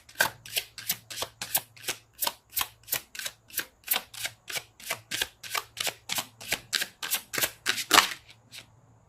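Tarot cards being shuffled by hand, close up, in a steady run of about two dozen crisp, evenly spaced papery snaps with brief quiet gaps between them.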